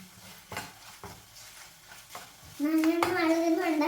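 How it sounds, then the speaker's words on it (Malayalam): A large spoon stirs food in a pan with scraping and clatter, then a sizzle rises and a steady frying hiss takes over. A voice is faintly heard during the stirring. "കരിഞ്ഞു പോകാതെ നന്നായിട്ട് ഇളക്കുക."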